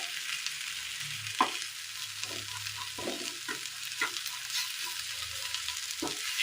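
Spices and chopped ginger are stirred in a hot pan for a Kerala breakfast dish, with a soft continuous sizzle broken by several distinct scraping strokes of the spoon at an uneven rhythm, close and alone.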